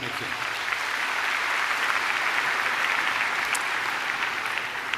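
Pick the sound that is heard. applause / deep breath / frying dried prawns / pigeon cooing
applause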